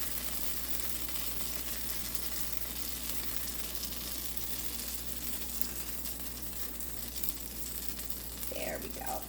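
Pancake batter made with almond flour sizzles in a hot pan, a dense, steady frying hiss filling the whole stretch, close and constant, with faint scraping near the end.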